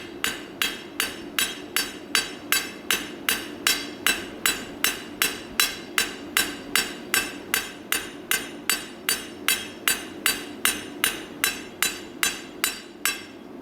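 Steady, evenly spaced hammer blows ring out on hot metal being forged from square to round, roughly two per second, loud and close, with a bright clang on each strike.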